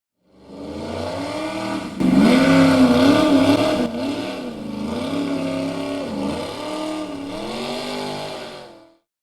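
A black Toyota race car accelerates up a hill climb, its engine rising to a loud, close roar, then wavering through gear changes and revs before cutting off at the end.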